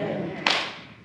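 A church congregation breaks into a short burst of clapping right after a baptism, swelling suddenly and then fading within a second.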